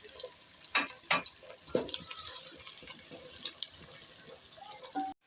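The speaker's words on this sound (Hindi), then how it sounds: "ऑयल हमारा गर्म हो चुका है। अब हम प्याज ब्राउन करेंगे।" Chopped onions browning in about four spoonfuls of hot oil for a chicken palak curry give off a steady close sizzle, with a few sharp clinks of a stirring spoon against the pan.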